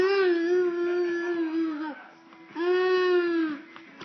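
A young child imitates a cow with two long, loud, sustained moo-like vocal tones separated by a short pause.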